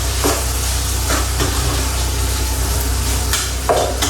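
Egusi frying together with meat protein in a pot, a steady loud sizzle with a low hum beneath and a few brief scraping stirs.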